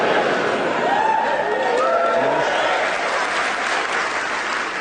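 A hyped-up live studio audience applauding and cheering near Aldborough, Suffolk, a dense, sustained roar of clapping with whoops and scattered shouts, loud and close throughout.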